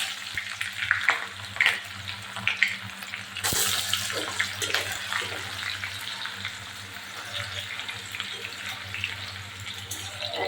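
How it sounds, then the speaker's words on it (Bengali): Chopped onion frying in hot oil with whole spices in a pan for ghugni, a steady broadband sizzle with occasional stirring scrapes and clinks, close and continuous with no talk. "পেঁয়াজ ভালোভাবে ভাজা হয়ে গেছে"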